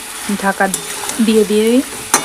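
Chicken pieces fry in a pan as a spatula stirs them, giving close, scraping strokes with a few squeaky rubbing tones and a soft sizzle, with no voices.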